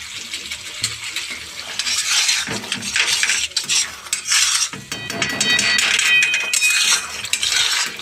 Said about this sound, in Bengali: একটু নেড়ে চেড়ে